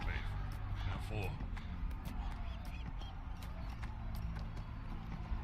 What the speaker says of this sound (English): this horse is not very fast